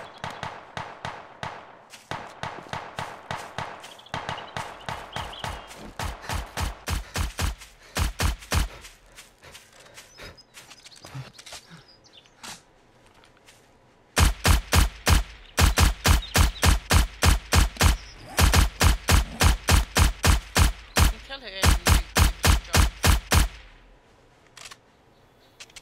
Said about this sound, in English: Who's firing with a gun?